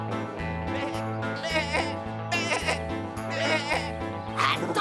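Sheep bleat at a cartoon rodeo leapfrog event, with several wavering cries rising over a bouncy, rhythmic music backing.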